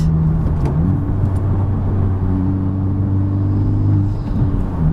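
A 2021 Honda Civic Type R engine rumbles steadily from inside the car, with the pitch dropping and rising as gears change while driving.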